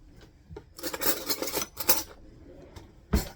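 A spoon is pulled from a drawer, a few close metallic clinks and rattles of cutlery in a kitchen, bunched into short bursts with a sharp final clatter and no talk.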